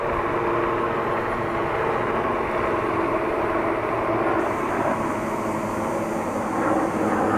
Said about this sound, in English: two helicopters in the sky.